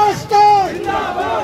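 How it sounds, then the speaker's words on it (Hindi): Crowd of hundreds in Bijbehara, Kashmir, chanting slogans in honour of the tricolour flag at a political gathering, a loud unison shouted chant close by in one short burst. "जहां सैकड़ों की भीड़ ने तिरंगे के सम्मान में नारे लगाए"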